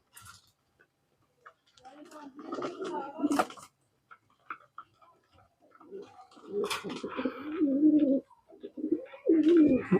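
Pigeon chicks coo in soft, low bursts from close by, held in hand, with pauses between calls and some light rustling in the gaps.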